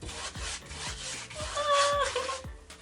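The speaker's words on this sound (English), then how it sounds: "There's nothing like the sound of a brush hitting a canvas" Paintbrush scrubbing and tapping against a canvas, close rough bristle rasps repeating in short strokes about twice a second, with a faint squeak partway through.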